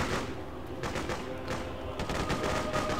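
Rapid bursts of automatic gunfire crackle continuously in the Freedom Fighters video game, dense overlapping shots and thumps layered through the whole stretch, loud and close with no pauses.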